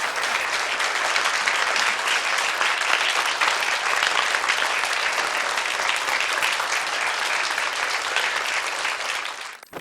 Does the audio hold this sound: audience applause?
yes